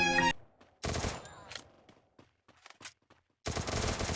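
Automatic gunfire from the video game Free Fire comes in loud, close bursts at the start and end, with sparse single shots and faint game sounds in the gap between them.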